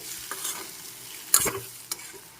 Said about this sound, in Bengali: ভালো করে আরো দু মিনিট ফ্রাই করে নিচ্ছি